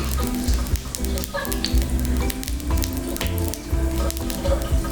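Eggs frying in a pan to top kimchi fried rice, crackling sizzle with sharp pops and spatters, close and steady for a few seconds, no voices.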